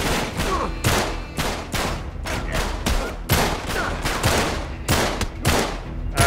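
Rapid gunfire in the Uncharted 3: Drake's Deception video game, dense bursts of automatic weapons and sharp single shots overlapping in a loud, continuous firefight with no speech.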